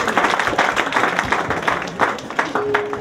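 Church congregation clapping and applauding together in a dense, continuous wash of hand claps, with a faint voice briefly underneath.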